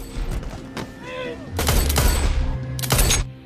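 Gunfire in an action film scene, with two loud bursts of rapid shots and a few sharper cracks, mixed with other film sounds and background noise.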